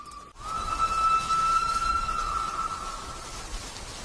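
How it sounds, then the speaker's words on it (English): A distant train whistle from the Thomas and the Magic Railroad film holds one steady tone for about two and a half seconds over a faint hiss, then fades into background noise. "in the distance we can hear a whistle"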